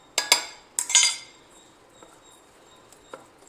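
Spice powder mixed in a bowl for an omelette, with two quick bursts of bright metal clinks and scrapes close by, then a few faint taps in near silence.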